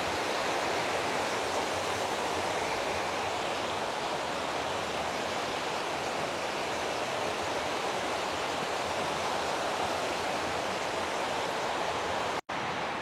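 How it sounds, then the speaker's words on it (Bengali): A waterfall in a wooded Massachusetts setting rushes in a steady, dense broadband roar that stays even and loud throughout, with no voices over it and a brief dropout near the end. "ঝর্ণার কাছাকাছি চলে এসেছি, পানির শব্দ"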